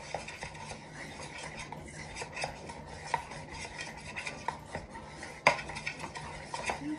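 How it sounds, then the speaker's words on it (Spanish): Homemade glycerin soap mixture is stirred steadily in a container, giving a continuous close rasping and scraping with faint clinks from the utensil, soft and alone with no talk. "Se mezcla muy bien hasta que nos quede blanquito."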